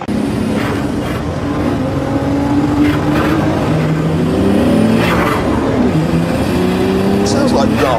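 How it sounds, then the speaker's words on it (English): A V10 diesel engine car drives by in a steady loud rumble, with traffic and road noise over roughly eight seconds while people talk over it. "The most amazing thing about that is a V10 diesel engine."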